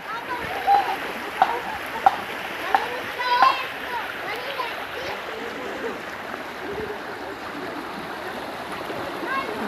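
Steady rushing of a strongly flowing creek after Typhoon Aghon fills the scene, with children's voices chattering and calling over it.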